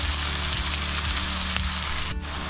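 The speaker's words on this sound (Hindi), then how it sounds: "ये 3 प्याज हैं जो हमने काट रखे हैं और इन्हें थोड़ी देर पकने देंगे" Three chopped onions frying in hot oil for fish karahi, giving a loud, steady close-up sizzle that hisses continuously before dropping off briefly near the end.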